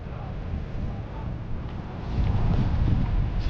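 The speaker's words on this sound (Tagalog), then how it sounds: "Malamig na ho ang simoy ng hangin" Steady broadband cool wind rushes past at Al Janoub Stadium, swelling stronger toward the end, with a low rumbling undertone and no clear voices.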